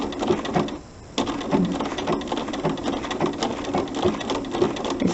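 A sewing machine runs steadily, stitching a buttonhole stitch for machine applique, its needle chattering in a fast even rhythm, close, with one brief pause before resuming.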